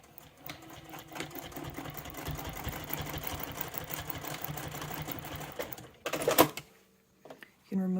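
A sewing machine stitches along the gusset line of a clutch purse, a steady fast mechanical whirr lasting several seconds, then brief clicks and a short restart near the end.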